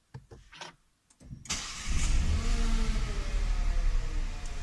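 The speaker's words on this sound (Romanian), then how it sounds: "și acum pornesc mașina" A Nissan Micra K14's engine cranks and catches after a few faint clicks, then settles into a steady, close, loud idle that holds to the end.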